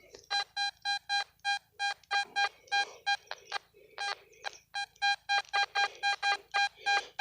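A metal detector at a gold rush dig site sweeping over a freshly dug hole, giving a fast series of sharp, high electronic beeps in irregular clusters, loud and close.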